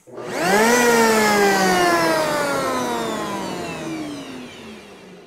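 A wood router fitted with a large panel cutter bit gives a loud, close whine that rises quickly, then slowly drops in pitch over several seconds.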